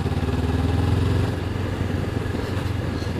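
Low, pulsing rumble of a Honda CB500X parallel-twin motorcycle engine turning around 1800 rpm, a steady loping beat that eases slightly partway through, heard up close with road and wind noise.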